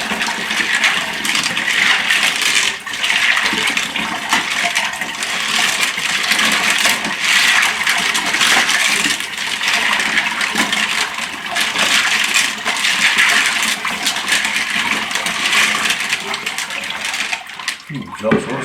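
Rocks from a £3 barrel get a quick wash, giving a continuous loud rush of running water mixed with rattling, clinking stones that keeps going for the whole stretch before cutting off near the end.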